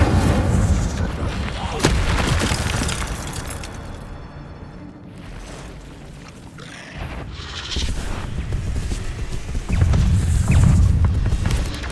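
An Incendio fire spell cast in the Hogwarts Legacy video game: loud, dense bursts and booming whooshes of magical combat effects that build, dip briefly, then swell again, with a voice occasionally mixed in.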